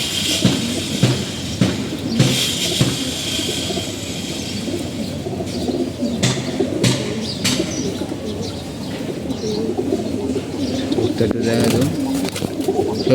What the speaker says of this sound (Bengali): কবুতরগুলো দেখাতেছি